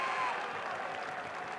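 A college basketball crowd at the Convocation Center applauds through a regular season finale, a steady moderate wash of clapping and cheering that holds evenly, with no voices standing out.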